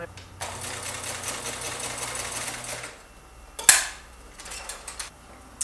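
A sewing machine stitches a quilted mug rug with a steady mechanical whir for about three seconds, then stops; a few clicks and handling noises follow at close range.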